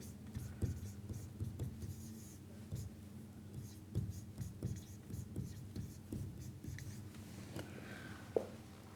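A pen scratches out a recurrence by hand on paper, quiet close strokes and taps in an irregular rhythm, with soft speech murmured alongside.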